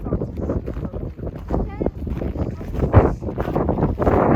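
Gusty wind buffets the microphone outdoors at the Pyramids of Giza, Egypt, a steady rumbling roar with a few sharper gusts, while people talk over it.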